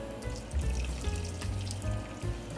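Chicken broth poured into a green bean casserole mixture, a steady watery splashing and gurgling that swells and eases in a few pulses, close and fairly loud, with no talk.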